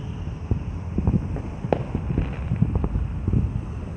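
Distant fireworks burst over Global Village in Dubai, a scattered series of low, muffled booms about every half second to second, set against steady wind rumble on the microphone.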